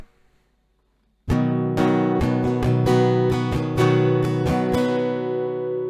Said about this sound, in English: So the full strumming pattern will sound like this.